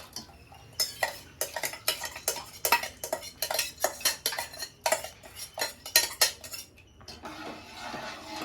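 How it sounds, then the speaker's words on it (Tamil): A ladle clinks and scrapes rhythmically against a cooking pot as cooked dal is stirred into ponnanganni greens, a quick run of close metallic taps and scrapes with no talking. "பருப்பை போட்டு கலந்துக்கலாம்"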